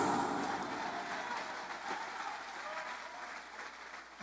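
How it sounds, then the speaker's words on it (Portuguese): A church congregation applauds: sustained, dense clapping that blends into a steady wash of noise, moderately loud and slightly distant, easing off briefly near the end. "Quem recebe esta palavra, aplauda Jesus Cristo."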